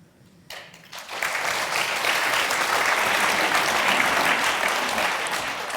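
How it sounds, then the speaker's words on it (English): Applause from a live audience at a literary festival event in Christchurch, rising quickly after a short pause into a steady, dense wash of many clapping hands that holds evenly and eases slightly at the end. "More applause."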